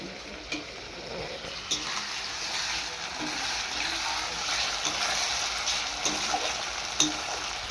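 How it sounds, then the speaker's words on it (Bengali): Spice masala with tomato sizzles steadily in hot oil in a pan for a chicken dish, a constant close frying hiss broken by occasional soft scrapes and taps of stirring, with no talking. "এবার ভালোভাবে মশলাটাকে কষাবো, যতক্ষণ তেল না ছাড়ে দেয় ততক্ষণটা মানে আমি কষাতেই থাকবো।"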